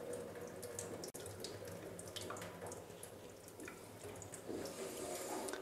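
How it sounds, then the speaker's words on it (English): Water rinses a soil sample through a sieve to wash nematodes down for extraction, a steady close splashing trickle with one sharp tap partway through. "we wash the nematodes down on the sieve so that they'll collect at the bottom"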